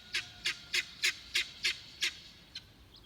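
Chickens on a porch on a rainy day call out in a regular series of eight close, evenly spaced squawks, followed by a shorter, softer one; no one speaks.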